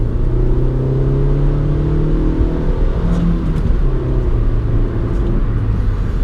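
A 2018 Kia Picanto GT-Line S hatchback with a 1.2 litre engine and five-speed manual, in fourth gear, hums along a country road, its steady mid-pitched engine drone rising and easing under constant tyre and road rumble.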